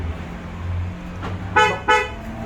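Two short, sharp car horn toots in quick succession from a Proton X50 locking, sounding over a low idling background hum.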